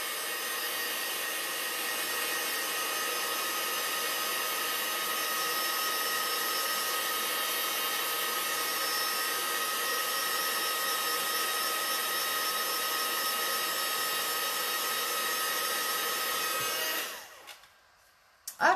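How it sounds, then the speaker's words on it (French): A heat gun blows hot air steadily and loudly to dry a handmade autumn pop-up card, a continuous whooshing roar lasting about seventeen seconds before it switches off abruptly. "Je vais prendre mon heat gun."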